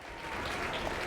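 A crowd applauding in The Lion's Song video game: a soft, continuous wash of clapping that swells slightly and holds steady, with no voices over it.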